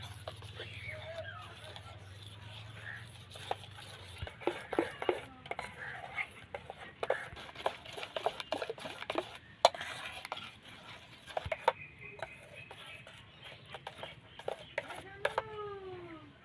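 A spoon stirs bael fruit milk sherbet with black salt and roasted black pepper in a vessel. Irregular clinks and scrapes come close and fairly loud, with a brief voice near the end.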